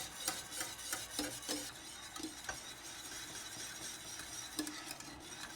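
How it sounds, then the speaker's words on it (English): Caramel eclair filling whisked in a pot over medium heat, with quiet, irregular metallic scrapes and light clinks of the whisk against the pot under a faint background hiss. "on medium heat, again, keep whisking until the mixture starts thickening"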